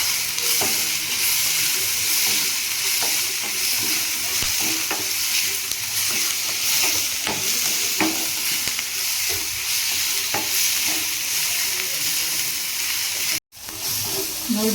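Curry leaves sizzle steadily in hot oil in a pan, with a loud continuous frying hiss and scattered stirring scrapes running almost the whole time and a brief dropout near the end.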